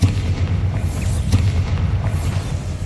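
A Bombarda spell blast in Hogwarts Legacy, a loud low booming explosion with a rumbling tail that fills the whole moment, with no talk over it.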